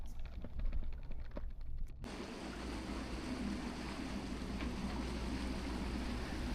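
Ferry crossing to Diamond Harbour, a steady broadband rumble of engine and water wash that fills the scene after a brief quieter stretch of ambient noise at the start, continuous and fairly loud.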